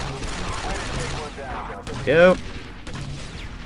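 Rapid turret gunfire in the Star Wars Republic Commando video game, a dense stream of shots under game effects, with a brief rising whine and a short spoken word mixed in.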